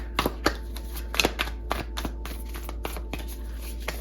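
Tarot cards shuffled by hand, a quick run of crisp riffling flicks and slaps in uneven bursts, close and fairly quiet over a low steady hum.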